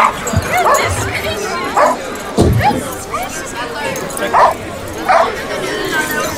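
Puppies at a Puppy Bowl event, including an aggressive one wearing a harness, give repeated yips, whimpers and short barks. The dogs sound close and lively over a busy, noisy room where people are talking.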